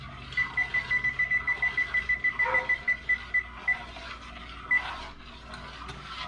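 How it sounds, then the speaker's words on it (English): A kitchen timer alarm beeps in a rapid regular series of short high tones while pudding is stirred on the stove, the pulses slowing and spacing out before one last beep; no one speaks. "I'm going to do a timer"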